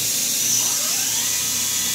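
The spindle of an OKK KCV 600 vertical machining center spins at about 2,000 RPM, giving a steady, loud high-pitched whine with a constant hum and no variation over two seconds.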